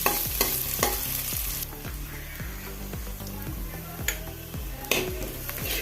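Sliced onion sautés with mustard seeds in a pan for a cauliflower dish, a continuous sizzle under rhythmic scraping stirs of a spoon against the pan, close and fairly loud, with no talking.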